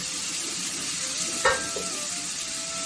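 Vegetables for millet khichdi fry in a pan with a steady close-up sizzle and hiss, broken by a brief stirring clack midway.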